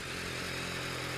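A BMW K1200S motorcycle engine idles steadily at low rpm, a continuous even hum with a faint harmonic drone and no revving, heard up close with no talking.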